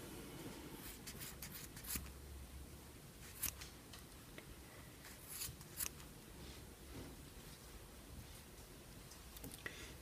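Scissors snip through the yarn strands of a small knitted tassel on a two-needle knit scarf, giving a few quiet, separate cuts against a faint room hiss with no talking.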